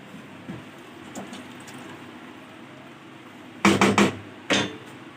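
Metal spoon scraping and clanking in a cooking pot while mutton karahi is lightly mixed at home, a few short loud clatters near the end after a quiet stretch with faint background noise.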